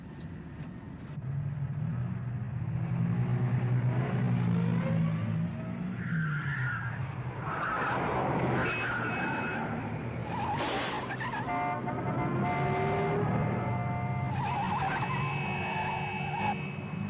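A motor car speeds away from an airport control tower with engines revving and tyres squealing and skidding, sustained and loud, with rising engine pitch and several sharp skids and no talk.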